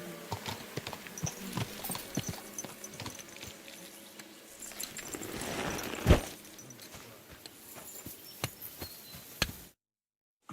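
In the medieval game Kingdom Come Deliverance 2, horse hooves clip-clop in a steady run of sharp knocks, fairly close and clear, with a louder thud midway before the sound cuts to silence.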